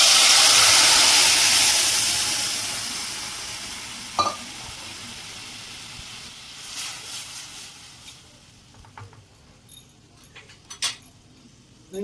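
Boiled peas dropped into hot oil tempered with mustard seeds, cumin and asafoetida give a loud sizzle that fades over several seconds, followed by scattered clinks and scraping of stirring.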